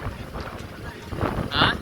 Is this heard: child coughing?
no